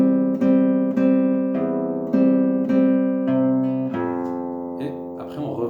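Acoustic guitar playing measure 4 of the Lost Woods melody: a steady sequence of plucked single notes, each ringing clearly into the next, close and solo, with a brief scratchy strum at the end.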